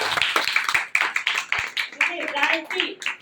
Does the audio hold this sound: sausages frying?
no